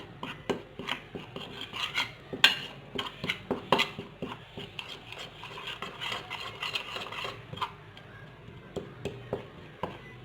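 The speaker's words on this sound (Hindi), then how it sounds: "इसको हम अच्छे से मिक्स कर लेंगे ताकि इसकी गुठलियाँ ना बने" Lemon and sandalwood powder are stirred into a paste in a bowl, giving soft, repeated scraping and clinking of a spoon against the bowl at close range in an irregular rhythm.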